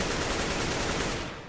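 An AK rifle in Counter-Strike: Global Offensive firing a rapid, unbroken burst of automatic shots, loud and close, then fading off at the end of the short spray.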